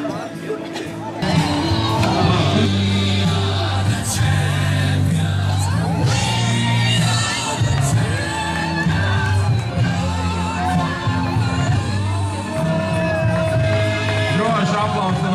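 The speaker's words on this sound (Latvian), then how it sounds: "Droši aplausi un ovācijas." A crowd at a village sports festival in Vilgāle cheers and applauds, with whoops, yells and shouting voices rising and falling over a busy, loud background of chatter.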